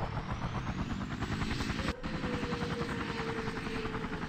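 A helicopter in the video game Emergency 3 makes a steady rotor thrum with engine whine, holding constant and close. A brief dropout occurs partway through.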